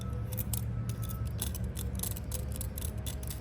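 A Leatherman tool scrapes hard cured polymeric sand from the joints between driveway pavers, giving a steady gritty rasp with rapid repeated scratchy strokes, close and continuous under low background noise.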